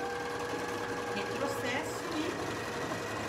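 A sewing machine backstitches in reverse on a tote bag, a quick mechanical whirring of needle strokes close by under a faint hum, with someone speaking briefly over it.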